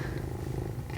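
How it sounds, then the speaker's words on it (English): A cat purring in the background, a low steady rumbling purr, faint and continuous throughout a brief moment with no voices. "So if you hear some purring in the background"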